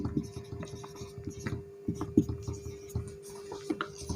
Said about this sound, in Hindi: लिखना पड़ेगा, चलिए उसको भी लिख देता हूं।